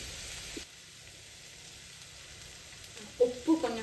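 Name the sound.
onions sautéing in a pan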